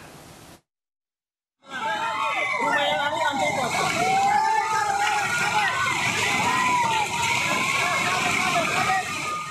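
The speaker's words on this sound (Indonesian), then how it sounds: "8 rumah hanyut terbawa derasnya luapan air sungai." Floodwater from an overflowing river during a flash flood in Tojo Una-Una, Central Sulawesi, roars in a loud, continuous rushing torrent after a brief silence, with faint voices underneath.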